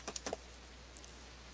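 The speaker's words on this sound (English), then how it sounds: "So I'm gonna type in my password." A few quick taps on a computer keyboard as a password is typed, four light keystrokes close together, then a couple more faint clicks after a pause, over a steady low room hum.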